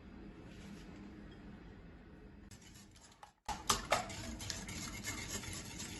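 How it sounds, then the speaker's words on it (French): Brioche dough of butter, oil and other ingredients stirred and scraped in a bowl, a soft rubbing swish that grows louder and busier halfway through, with no talking. "Je mélange le tout."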